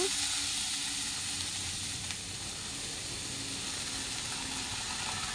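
Washed cabbage tipped all at once into a hot pan for a Bengali fish-head and cabbage dish, giving a loud, continuous broadband sizzle and hiss that holds steady throughout.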